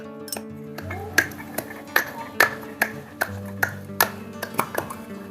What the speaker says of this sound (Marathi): आता मी लसूण ठेचून घेते